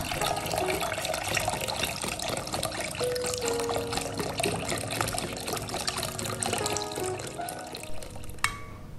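Full cream milk pouring steadily into a container for an es sop buah fruit drink, a continuous liquid trickle and splash running unbroken for several seconds, close and moderately loud, with no talking.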